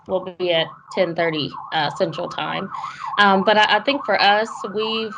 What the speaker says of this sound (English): I don't know if you can hear the siren outside my office.